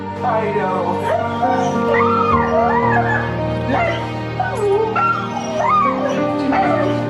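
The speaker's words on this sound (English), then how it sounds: "It's like the dog is telling him all about what happened while he was gone." A dog reunited with its owner after a long separation barks, yips and whimpers in a continuous, close stream of excited vocalizing, rising and falling in pitch with short howl-like whines.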